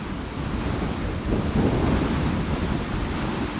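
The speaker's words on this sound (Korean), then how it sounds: "거센 바람이 불어닥치는 제주특별자치도" A strong gusting wind roars over a construction site on Jeju Island, where a house is being built. The broad, loud rush buffets the microphone continuously and swells slightly midway, with no voices.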